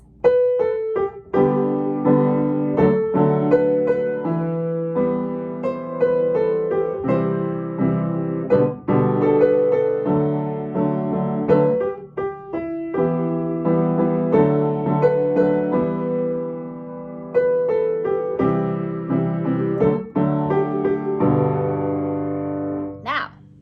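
Piano chords played in a repeating rhythmic pattern, with the low notes in the left hand pulsing steadily beneath the harmony, clear and up close.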